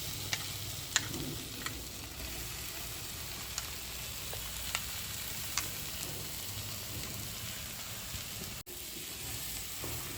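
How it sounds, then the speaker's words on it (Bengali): Washed oats cooking with fried vegetables in a pan, a steady close sizzle with occasional sharp clicks of stirring, continuous throughout without speech. "এবার আমি হালকা করে ওটসটা ধুয়ে এই সব ভাজা যে সবজিটা আছে এটার মধ্যে যোগ করবো"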